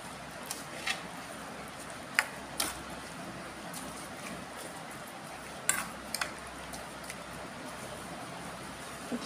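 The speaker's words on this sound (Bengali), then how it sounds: "চিনি দিয়ে মিশিয়ে নেব।" Soaked flattened rice (chira) being mixed with sugar in a bowl for a homemade chira ice cream: quiet scraping and a few sharp spoon-on-dish clinks spread across a soft, steady background, with no talking.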